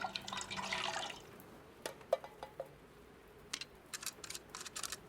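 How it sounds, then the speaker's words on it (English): Fuel pours from a can through a funnel into a generator in a horror video game, a short burst of liquid glugging followed by scattered drips and small clinks. "I can pour in the fuel now."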